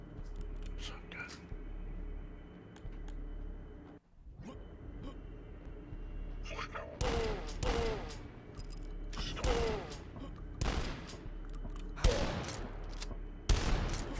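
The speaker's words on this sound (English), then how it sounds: "Shotgun." Shotgun blasts in the video game Dusk, a run of sharp, loud bursts clustered in the second half over a low rumble, with a quiet voice under the opening stretch.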